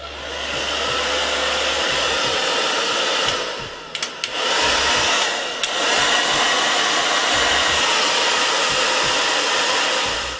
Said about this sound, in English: you want to blow dry it until you feel that it's not wet anymore